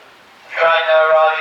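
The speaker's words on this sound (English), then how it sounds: "we see 2857, again at the head of the 12:20 p.m. service from Kidderminster, passing the south signal box to run into platform 1" Steam locomotive 2857 draws a train past the south signal box into platform 1 on the Severn Valley Railway, its steady tonal whistle-like sound rising suddenly after a quiet start and holding loud to the end.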